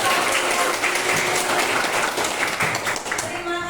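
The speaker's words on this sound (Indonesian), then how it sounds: "Tepuk tangan dong." A classroom of students claps for a correct answer, steady continuous applause at close range, filling the whole moment with a slight clattery texture.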